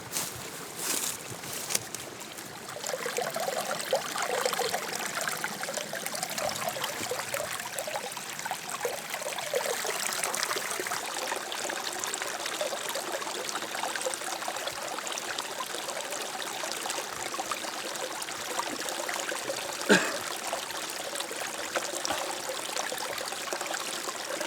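A mountain stream flows in high country backcountry, a continuous soft rushing and trickling at moderate distance, with a few faint knocks near the start and no speech.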